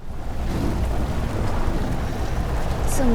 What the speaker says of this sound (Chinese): 怎么就突然下雨了呢？